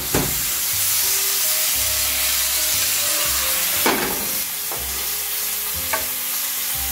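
Mushrooms hit a hot frying pan for chicken marsala, setting off a close, steady sizzle broken by a few clattering knocks of utensils against the pan.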